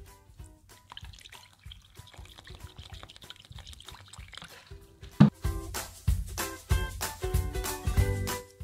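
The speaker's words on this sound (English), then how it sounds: "And 1/2 cup of water." Water is poured into a bowl of tempura batter made from flour, baking powder, salt and egg, with soft clinks at first, then a louder, splashy, gurgling pour in bursts close by.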